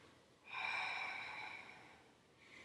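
A single slow nasal inhale from a Pilates participant during a floor exercise, soft and close, swelling for about a second and a half and then fading, with a fainter breath following.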